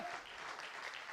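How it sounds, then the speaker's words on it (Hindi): Seminar audience applause sounds as a brief, dense burst of many hands clapping at steady strength, heard alone without speech. "यस, ऐसी ही तालियां बजनी चाहिए।"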